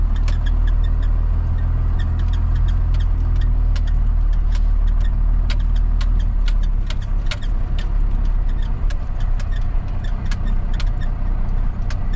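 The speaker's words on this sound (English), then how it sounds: "this truck doesn't turn so sharp, so trying to turn up through them trees" A truck engine drones loudly and steadily as it drives slowly through woods, turning up between trees, with sharp clicks and snaps of brush breaking over the constant rumble.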